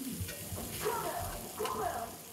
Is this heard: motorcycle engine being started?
no